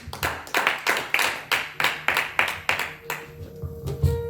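A church congregation claps in praise at a worship service, with a string of about a dozen even, sharp claps in a steady beat that fades into softer scattered sounds at the end.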